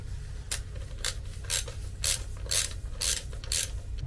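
Ratchet wrench loosening a 19 mm nut on a Jetson Bolt Pro electric bike crankset, close and crisp, with about seven evenly spaced ratcheting bursts roughly every half second, no talking.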